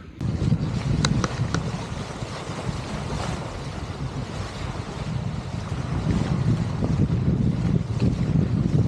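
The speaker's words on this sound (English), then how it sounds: "The wind is coming from 60 degrees, and that is keeping it away from me" Steady wind buffets a boat moored on the Intracoastal Waterway at sunrise, a constant low rushing roar with gusty swells. No voices are heard.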